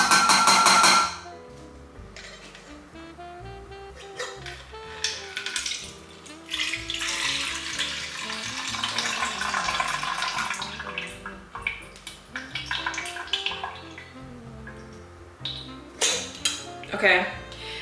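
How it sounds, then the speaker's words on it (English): Fresh lemon juice poured into a jug while the seeds are held back, a close liquid trickle and splashing with clinks of kitchenware, loudest in the middle, with a person talking intermittently. "So I'm gonna start by first pouring in the lemon juice."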